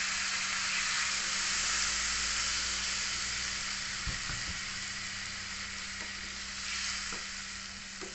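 Water poured into frying spices for sweet and sour chicken sets off a loud, steady sizzle and hiss in the pan, with a few stirring knocks midway through.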